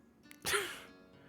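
During a tabletop Dungeons & Dragons session, a person voices a single sudden sneeze, a short breathy burst after a quick intake, fairly faint and alone.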